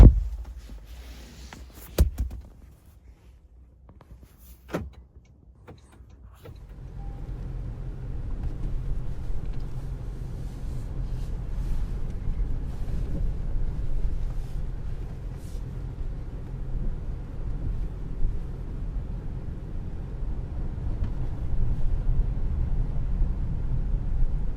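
A 2025 Toyota Camry Hybrid SE pulls away on a cold 28-degree day, heard from inside the cabin: a few clicks and thumps at first, then a steady low road and drivetrain rumble that slowly builds as the car gets moving.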